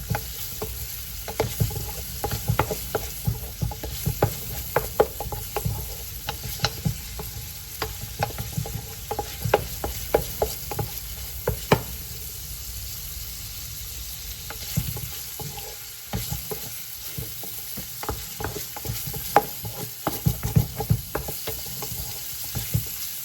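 Spring roll vegetable filling sizzles in a pan while being stirred, with steady frying hiss and frequent scraping utensil clicks close by, no talk.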